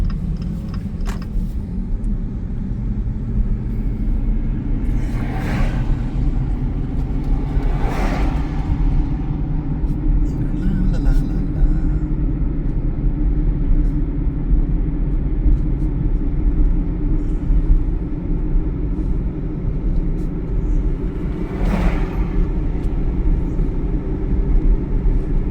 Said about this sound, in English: I'm going to just take a nice slow drive through town